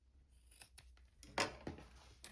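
Scissors snip through fabric seam allowance while a small tote bag is being sewn, giving a series of short, close, crisp cuts at uneven intervals against a quiet room.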